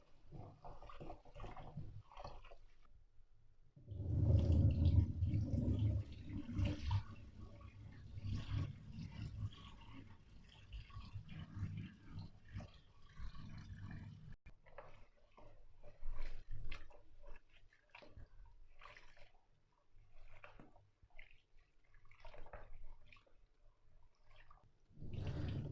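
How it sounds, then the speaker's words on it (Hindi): Rice is washed by hand under running water, with a loud gush of water at first, then faint splashing, swishing and dripping that continues quietly without talk. "सबसे पहले हम चावलों को धोएंगे। अच्छी तरह चावल धो लेने हैं।"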